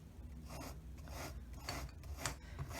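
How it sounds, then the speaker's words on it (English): A dry rasping scrape repeats in short strokes close up, as scissors scratch oil pastel on paper, with no talking. "as I scratch the oil pastels away"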